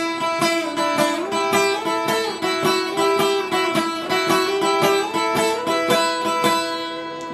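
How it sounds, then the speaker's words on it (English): Guitar playing the first part of the Horse with No Name solo, with a shuffle strum over a drone, giving continuous loud, close rhythmic strums and a steady ringing drone note beneath a simple melody. "That's the first part of the guitar solo from Horse with No Name."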